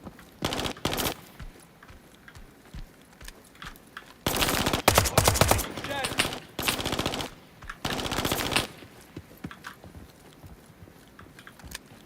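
Gunfire crackles in the video game INCURSION Red River, with rapid automatic bursts in several dense volleys separated by short gaps and scattered single shots, loud and sharp against a quieter background.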